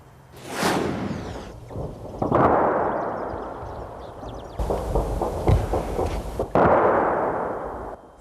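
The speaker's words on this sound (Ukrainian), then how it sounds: "то скрекоче кулемет, то реве важка артилерія" Wartime shelling in Avdiivka: loud booms of heavy artillery with rolling echoes, mixed with rattling machine-gun bursts, several blasts over a few seconds, near and powerful.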